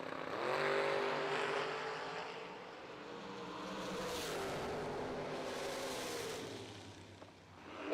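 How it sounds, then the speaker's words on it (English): Two C5 Corvette race cars on a drag strip accelerate hard, a loud sustained engine roar that shifts pitch as they pull away, then fades at a distance, with no talk. "Pair of C5 Corvettes going down the racetrack."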